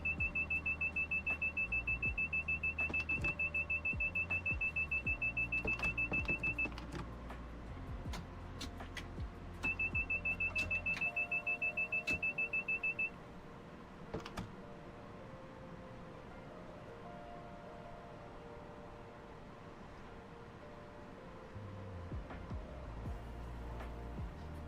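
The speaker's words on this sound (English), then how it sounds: "If you love hearing beeps, if you love warnings, Long Island Railroad is the route for you." Rapid repeating warning beeps in the Train Sim World 4 Long Island Rail Road route, two long runs of fast, steady electronic tones over a low rumbling train cab, then quieter running sounds.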